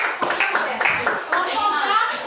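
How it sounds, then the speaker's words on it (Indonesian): Students in a junior high school classroom clap their hands together in a brief, steady burst that stays close and fairly loud, with children's voices talking over it. "Tepuk tangan."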